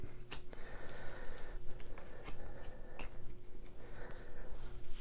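Board game cards for The Lunar Dial are shuffled at a table, giving repeated crisp papery flicks and taps over a steady low hum, with no talking.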